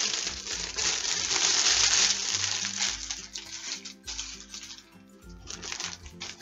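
Crinkly plastic packaging being unwrapped from a preordered skirt, a dense rustling and crackling that starts loud and continuous, then thins into intermittent crinkles with quieter gaps.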